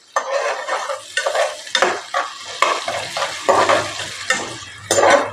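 Onions and whole spices fry in a pan for chicken pulao, with close, rhythmic scrapes and clinks of a utensil stirring over a soft sizzle.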